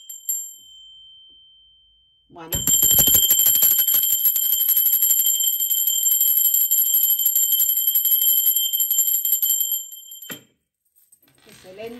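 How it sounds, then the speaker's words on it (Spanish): A bright bell rings continuously for several seconds with a steady high shimmer, then stops abruptly; a brief voice is heard before it starts. "Ahora sí, va campana."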